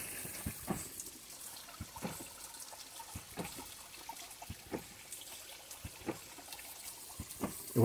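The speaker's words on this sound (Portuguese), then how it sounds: "Eu vou mostrar pra vocês o carneiro trabalhando" A hydraulic ram pump working in a water intake line keeps up a rhythmic series of soft knocks and clicks over a faint trickle of flowing water, steady and fairly quiet with no talk.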